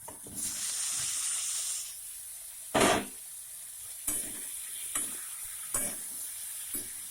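Potol, chicken mince and potato simmer and fry together in a spiced gravy, with a constant soft sizzle beneath periodic louder scrapes and stirs of a spatula in the pan, heard up close with no talking.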